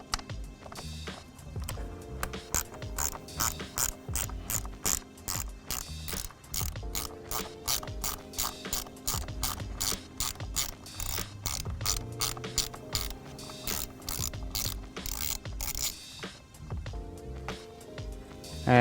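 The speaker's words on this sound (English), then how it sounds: "next we'll use a 10mm, and there's 2 10mm bolts that are on top of the airbox" Ratchet removing two 10 mm bolts securing the airbox to the frame of a Honda Monkey 125 motorcycle; rapid, continuous clicking in repeated bursts, close and fairly loud.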